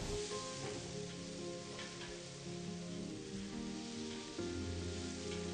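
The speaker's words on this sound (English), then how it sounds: "Saute these items for at least 2 to 3 minutes till it turns soft." Chopped onions, ginger and fresh tomatoes sauté in a pan for palak paneer, giving a faint, continuous, rain-like sizzle and patter with no talk over it.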